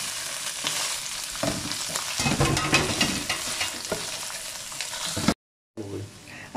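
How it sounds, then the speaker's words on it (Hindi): Beef pieces, an undercut cut for beef chilli, fry in a hot pan with a steady loud sizzle and stirring scrapes, broken by a brief silent gap near the end before the frying resumes. "इसको हल्का सा फ्राई करेंगे।"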